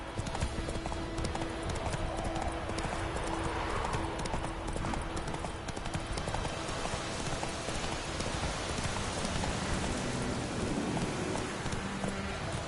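Hooves of a galloping horse in The Witcher 3 drum steadily through heavy rainfall, a constant wash of rain and a low rumble of thunder blending with the rapid clip-clop, with no talking.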